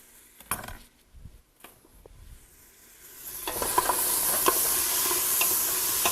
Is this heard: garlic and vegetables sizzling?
yes